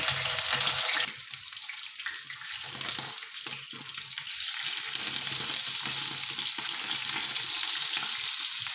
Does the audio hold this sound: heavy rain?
no